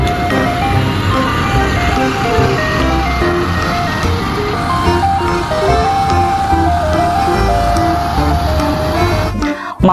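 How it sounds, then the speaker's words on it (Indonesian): A toy ice cream truck plays its tinkly electronic jingle, a loud continuous melody that runs without pause and cuts off abruptly at the end. "Yang ini ada mobil es krim."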